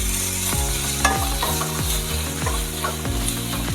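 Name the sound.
stirring onions and curry leaves frying in a pan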